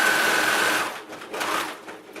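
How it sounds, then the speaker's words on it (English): An overlock sewing machine stitches denim jeans panels in a fast, steady mechanical whir that runs alone for about a second, then continues in shorter, uneven bursts. "Overlock that part, and just the other side as well."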